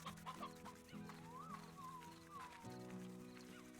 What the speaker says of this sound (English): Let's gather up a bunch of chicken.